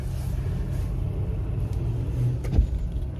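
A truck reverses fast along a road outside, a low engine rumble that swells slightly and stays steady at moderate distance with no talk over it.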